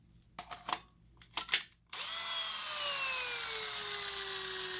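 A cordless power drill runs on a previously dead battery after a short recharge. A few faint clicks come first, then the motor whirs up loudly and holds a steady whine as its pitch slowly sinks, close and alone.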